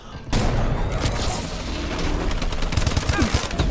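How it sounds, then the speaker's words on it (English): Light machine gun fire in the video game Call of Duty: Advanced Warfare, a dense, loud continuous burst of rapid shots with booming low end that carries on throughout with barely a break. "That's a light machine gun."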